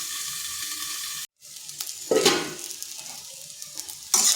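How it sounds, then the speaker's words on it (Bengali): Ivy gourd (kundri) fries in a pan with a lid on, making a close sizzle broken by a brief silence, then scraping stirs and clinks of a spatula against the pan, with louder bursts of sizzling between them. "ঢাকা দিয়ে 4 থেকে 5 মিনিট নেড়েচেড়ে ভেজে নিচ্ছি।"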